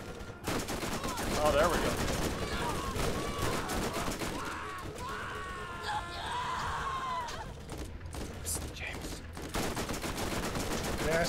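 Rapid SMG gunfire in the video game Borderlands, bursts of shots running through most of the stretch with someone talking over the shooting and game sounds.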